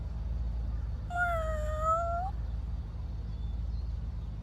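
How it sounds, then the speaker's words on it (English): A single clear cat meow, drawn out and rising then falling, close and fairly loud over a low rumbling background hum, with quiet faint sounds afterward. "I was so worried I'd run over you, little kitty."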